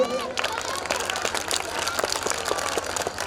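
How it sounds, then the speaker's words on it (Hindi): A school audience at a Meena Manch 2023 program claps loudly and thickly for a children's performance. The sharp hand claps pile together steadily throughout, with a voice heard briefly early on. "आप लोग एक बार बच्चों के लिए जोरदार ताली बजा दीजिए"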